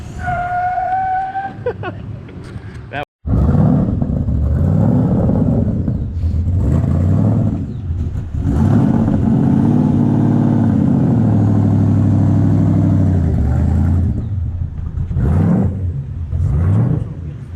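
Motorcycle engines rev and whine, rising and falling in pitch nearby, with voices talking over the roar.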